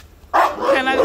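A junkyard dog on an urban farm gives one sudden, loud, close bark that trails into a harsh yelping tone, lasting about a second.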